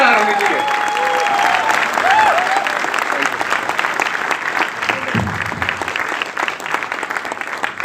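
Loud, sustained audience applause welcoming people on stage at a business meeting, dense crowd clapping with a few raised voices and whistles early on, gradually thinning toward the end.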